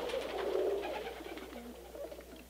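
Pigeons coo up in the rafters of a film studio soundstage, a soft, low, rolling call repeating for a couple of seconds, fairly faint and slightly distant, with no voices.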